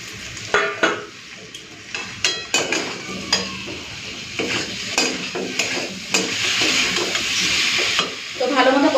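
Chopped tomatoes hiss and sizzle in a hot pan, with repeated sharp scrapes and clinks of a utensil stirring them, fairly close and loud, with no speech.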